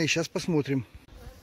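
Restless honey bees buzz around an opened hive holding queen cells on a breezy day, a steady insect hum beneath a man's nearby speech.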